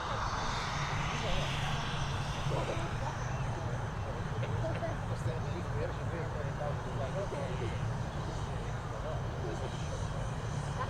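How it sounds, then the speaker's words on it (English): A NetJets Bombardier Global 6000 business jet at Dublin Airport gives off a steady, loud engine roar that holds throughout, with someone talking over it. "we've got one of NetJet's fleet of this Bombardier Global 6000. Heading over to Luton."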